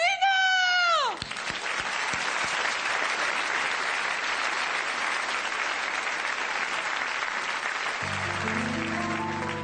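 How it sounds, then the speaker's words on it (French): A stage audience at a Shirley and Dino comedy show bursts into sustained, loud applause, dense clapping holding steady for several seconds, with a brief musical tone at the start and a low musical tone entering near the end. "Donc je vous demande de l'applaudir très fort"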